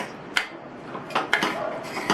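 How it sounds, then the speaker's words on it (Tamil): Boiled potatoes for street-style pattani masala are mashed in a pot with the back of a ladle, giving a few sharp metallic clinks and scrapes spaced unevenly over a quiet background. "நான் வந்து கரண்டியோட பேக் சைடை வச்சு மசிக்கிறேன்."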